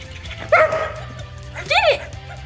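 A puppy lets out two short, high yelping barks close by at a moving toy, about a second apart, with whiny rising tones.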